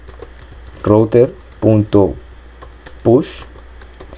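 Code is typed on a computer keyboard with rapid, close key clicks running throughout, while someone speaks over them in short phrases.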